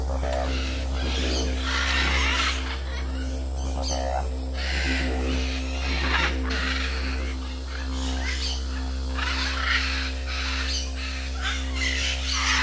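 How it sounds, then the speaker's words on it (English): Birds calling inside a walk-in aviary cage in Bolivia, with crow-like caws and squawks repeating throughout against a steady mechanical hum, while people talk nearby. "So now we're going into the bird cage. You guys can go right in here directly with the birds."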